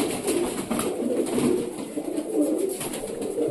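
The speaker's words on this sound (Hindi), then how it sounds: "बहुत ही अच्छा कबूतर है भाइयों।" Pigeons cooing nearby, a continuous low rolling murmur of overlapping coos with no talking.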